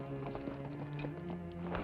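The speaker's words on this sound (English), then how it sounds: "Horse without rider way out here in a deserted barn." A riderless horse in a deserted barn clip-clops faintly in the background, its hoof steps coming at an irregular walking pace beneath a steady hum.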